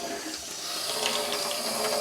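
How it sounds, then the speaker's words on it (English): Cold tap water pours steadily from a faucet, a close, even hiss and splash with no voices. "So this is just cold tap water."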